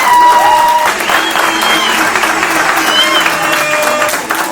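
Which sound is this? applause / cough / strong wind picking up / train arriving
applause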